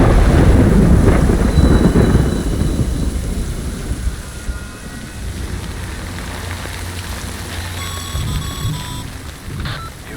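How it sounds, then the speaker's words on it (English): Heavy rain falls in the video game Death Stranding, opening with a loud rumble of thunder that fades into a steady downpour and then softer rain, with a short electronic beeping near the end. "Good thing it was raining."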